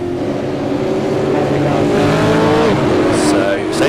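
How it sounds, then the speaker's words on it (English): V8 race cars accelerating hard off the start at Fuji circuit, a loud, dense roar of engines rising in pitch together, with tire squeal and a commentator talking over it. "He's trod on the throttle very, very quickly there."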